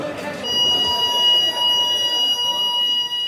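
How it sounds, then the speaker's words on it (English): An alarm system sounding inside Mountjoy, Ireland's toughest prison, where a steady high electronic tone drones on beneath a noisy wash of voices and commotion. "staff can activate an alarm system to call for help"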